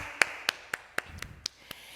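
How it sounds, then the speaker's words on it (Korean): Hands clap in applause for God at a children's church service: about eight crisp, evenly spaced claps in a steady rhythm, close and clear against a quiet room. "하나님께 영광의 박수 올려드리겠습니다"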